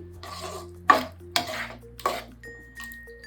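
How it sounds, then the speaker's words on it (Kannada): A spoon scraping and clanking against a pot while stirring eggplant tamarind curry, Tamil Nadu style kathirikai thokku, with three or four distinct metallic knocks over a low steady kitchen hum. "ಹಾಕ್ಕೊಂಡು ಇನ್ನೊಂದ್ಸಲಿ ಚೆನ್ನಾಗಿ ಮಿಕ್ಸ್ ಮಾಡ್ಕೊಳ್ಳಿ ಹಿಂಗೆ"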